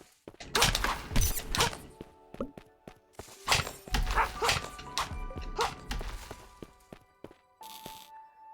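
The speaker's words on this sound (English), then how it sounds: "Those don't look like moles, they look like dogs." Dogs bark in a video game demo, coming in several loud, rough bursts spread across the stretch with thumping game noises between them.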